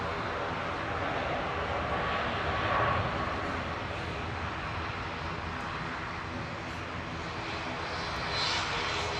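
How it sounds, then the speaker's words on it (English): An airliner arriving at Manchester Airport, its jet engines a steady, broad roar at moderate distance that swells slightly and then holds even throughout, with no talk over it. "Right now, flight 6 from Funchal arriving."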